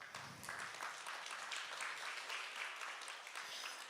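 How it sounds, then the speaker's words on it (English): Audience at a panel discussion on electoral integrity applauding, a soft, steady patter of many hands clapping heard at a distance and fairly faint. "Applause."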